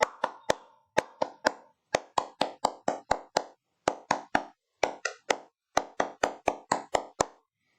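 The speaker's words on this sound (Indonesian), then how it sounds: "yuk kita lakukan tepuk pramuka bersama-sama ya" A scout group's rhythmic clapping chant, tepuk pramuka, comes as sharp, dry claps grouped in quick patterned bursts with short pauses between them, crisp and close, and no voices are heard.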